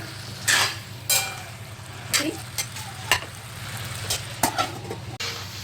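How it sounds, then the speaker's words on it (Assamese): A spoon stirs Assamese-style mutton curry in a cooking pot with repeated scraping strokes and clinks at irregular intervals over a steady low sizzle and hum, close and fairly loud. "ভালদৰে লৰাই ল'ম, মিক্স কৰি দিছোঁ মানৰ কাৰণে"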